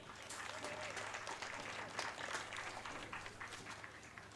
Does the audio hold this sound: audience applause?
yes